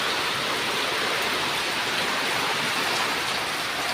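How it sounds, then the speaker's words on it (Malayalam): Heavy rain pours down in a dense, unbroken roar, with gusting wind blended into the continuous wash of noise, loud and close. "ഭയങ്കര കാറ്റും മഴയാണ്."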